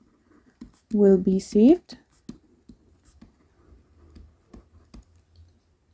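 Pen scratches and taps as an answer to an A Level accounting question is written out, a soft string of brief strokes and clicks following a short spoken phrase, fairly close and quiet.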